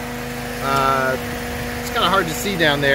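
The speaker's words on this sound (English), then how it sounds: "as you can sort of hear, the fan is running" A PT Cruiser's radiator cooling fan runs on an overheating car, a steady mechanical hum with a low tonal drone that continues under someone talking nearby.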